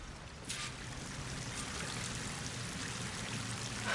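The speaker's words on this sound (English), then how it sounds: "That waterfall must be coming from somewhere." A waterfall roars in Horizon Forbidden West as a steady, broad rushing hiss of falling water that holds constant for the whole stretch with no voices over it.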